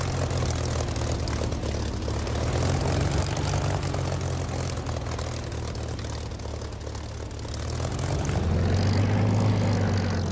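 A propeller aircraft engine drones loud and continuous in a DCS flight simulator, holding steady before the pitch and power rise toward the end as takeoff begins.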